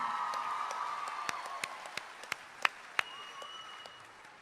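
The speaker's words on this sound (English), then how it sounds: "She deserves another round of applause for that" Audience applause for a contestant at the Miss Cook Islands 2019 pageant: a dense, steady wash of clapping with a few sharper individual claps standing out, fading slightly toward the end, alongside a faint sustained tone.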